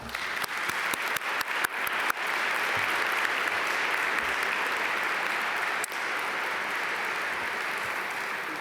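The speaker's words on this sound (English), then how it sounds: "So give yourselves a round of applause for that." Graduating MBA class applauding at a 2021 graduation ceremony, starting with a few sharp, distinct claps that build into sustained, even applause from a large crowd and then fade slightly near the end.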